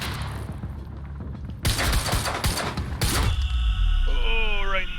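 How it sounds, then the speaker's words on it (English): Video game gunfire in Quantum Break: a burst of rapid, loud shots with heavy booms, then a second volley, and voices shouting over the fighting. "Cover me. Suppressive fire."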